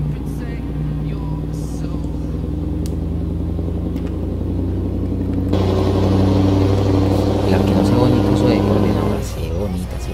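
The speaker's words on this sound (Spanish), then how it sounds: "Bueno, freno motor, mientras que pasa el T-800" A truck's engine brake rumbles steadily in American Truck Simulator, then a passing T-800 truck swells the drone louder for a few seconds before easing off. Engine noise is continuous and close.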